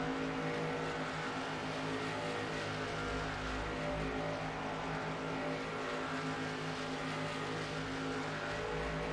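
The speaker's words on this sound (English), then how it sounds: "Just excellent teamwork by this group of trucks here." A pack of NASCAR trucks races at Daytona in the NASCAR Racing 2003 simulation, their engines droning in a steady, dense, fairly loud blend of layered engine tones with no breaks and no speech.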